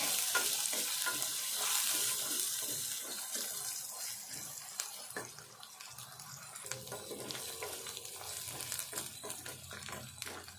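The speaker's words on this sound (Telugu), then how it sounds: "ఉల్లిపాయతో పాటుగా ఈ అల్లం వెల్లుల్లి పేస్ట్ కూడా వేగాలి. ఇట్లా దూరగా వేగాలి." Onions and ginger-garlic paste fry in a pan for a dried-fish curry, giving a steady, close sizzle with occasional stirring scrapes and no voices.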